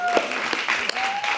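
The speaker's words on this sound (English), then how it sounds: "So let's give kids a big round of applause." A crowd at a youth open-mic event applauds for the kids, a short burst of dense clapping heard briefly and fairly loud.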